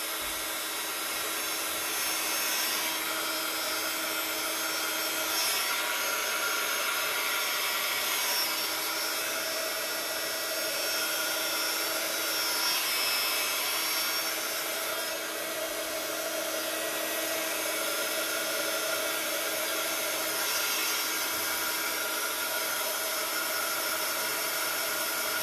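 A hair dryer blows steadily on colored texture paste, a continuous close whooshing hiss that holds for the whole stretch with only slight swells and no speech over it.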